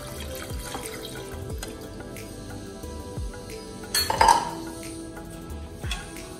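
Milk poured into rice and water in a pressure cooker for chakkara pongal, heard as soft running and trickling liquid with scattered metallic clinks and a louder splash near the end.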